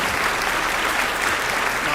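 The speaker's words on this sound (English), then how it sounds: "Come on, give me a round of applause there" Continuous applause from a live audience, steady and dense clapping throughout with no voices over it.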